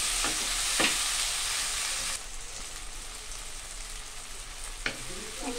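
Chopped green chili and tomato frying and sizzling in a pan for fried rice, a steady loud hiss with a few sharp crackling bursts as the vegetables hit the hot oil, no talking.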